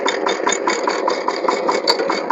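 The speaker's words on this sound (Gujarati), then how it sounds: "આપણું ટ્રેક્ટર પાછું મારે છે" A mini tractor pulling a levelling plank through a sown groundnut field chugs loudly up close, its steady, rapid knocking rhythm running without a break.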